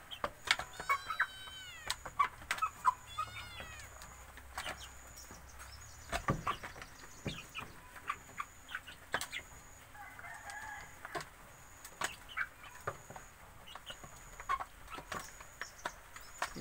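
Bangkok chickens call and cluck at moderate distance, with a rooster crowing early on and scattered bird noises over a steady outdoor background.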